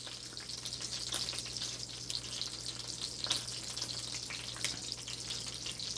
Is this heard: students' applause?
no